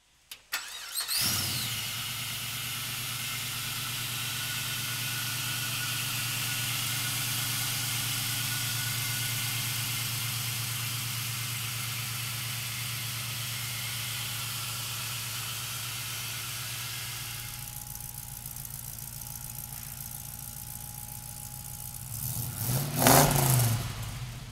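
A 1969 Chevrolet Camaro restomod fires up and settles into a loud, steady idle with a deep rumble, the tone shifting partway through before a sharp rev near the end.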